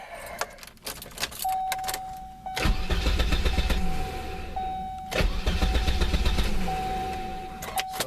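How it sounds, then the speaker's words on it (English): A 1988 Volvo 760 fitted with a junkyard replacement starter cranks in two bursts of rapid rhythmic churning, close and loud, with a key jingle and a steady electrical whine between them, the engine not catching. "I'm just wanting to test the starter."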